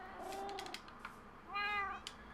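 Several Minecraft cats meow in short, clear calls, with a cluster of quick mews early on and a longer, louder drawn-out meow near the end. No voices, and the calls stand alone against quiet background.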